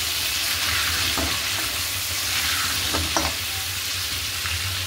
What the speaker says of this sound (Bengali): এবার আলুটা ভেজে নিই।